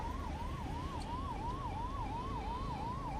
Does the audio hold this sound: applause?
no